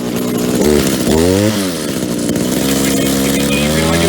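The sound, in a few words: Echo SRM-2400 string trimmer engine running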